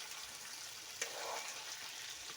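Potatoes and pointed gourd frying in a pan, with a steady soft sizzle throughout and a brief clatter as the vegetables are added partway in.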